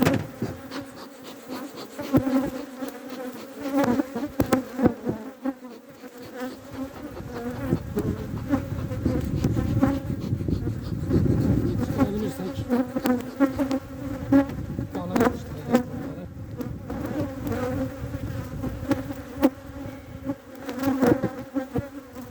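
Honey bees buzz steadily in an opened split hive being worked for honey production, a dense, continuous hum close by that swells louder midway and stays prominent throughout, with no talking.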